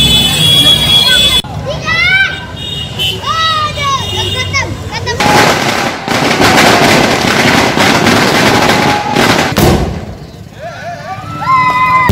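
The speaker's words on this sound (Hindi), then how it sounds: "आतिशबाजी भी की गई" Fireworks crackle and pop in dense bursts amid a noisy crowd at a lamp-lighting celebration in Lakhisarai, India, with whistling rockets and excited voices of people and children around.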